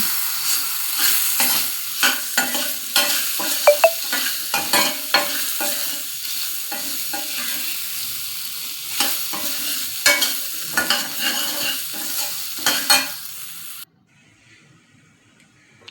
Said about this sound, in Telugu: ఇక్కడ పల్లి చట్నీ కోసం తాలింపు పెడుతున్నా